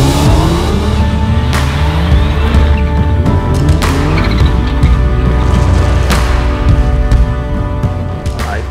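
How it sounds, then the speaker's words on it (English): Inside a Dakar rally car, the engine roars steadily and loudly while metallic gearbox clunks mark each shift and stones clatter against the body in sharp, scattered hits. "This noise inside the car, when you shift, the noise, the metallic noise to the gearbox, to the stones to touch from everywhere"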